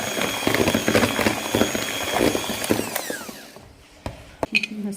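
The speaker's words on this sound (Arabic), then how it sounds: "دلوقتي نزلنا بالزيت اهو شويه شويه، هنقعد نضرب برضو فيها تاني" An electric mixer whirs steadily while beating cake batter as oil is added, then cuts off, leaving a few sharp clanks and knocks near the end.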